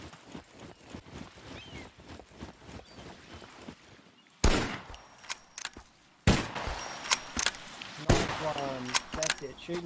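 Gunshots in a video game ring out as a few sharp, loud cracks with a ringing tail, spaced apart over quieter background clatter, while people talk in between.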